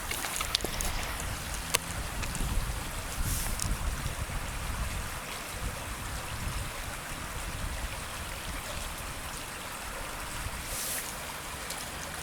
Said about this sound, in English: there's also some water flow down here